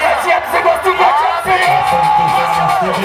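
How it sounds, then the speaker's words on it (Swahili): A large crowd at a rally in Mufindi, Iringa, shouts and cheers continuously to welcome Prime Minister Mwigulu Nchemba, producing a loud, dense roar of voices. "Piga kelele na kumkaribisha waziri mkuu wetu."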